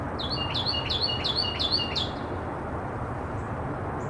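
A bird chirps in a quick series of about eight bright, repeated tweets over steady background hiss, then falls quiet.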